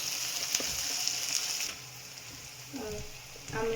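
Green peas frying in hot oil with ginger-chili paste for a semolina pea kachori filling give off a steady, close sizzle that is loud at first, then softens, with a few dull clunks near the end.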